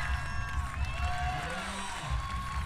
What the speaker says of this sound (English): she's getting the crowd pumped up now